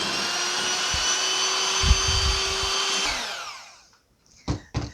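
An electric mixer whips aquafaba toward stiff peaks, giving a loud, steady whirring drone for about three seconds before winding down, followed by a couple of short knocks.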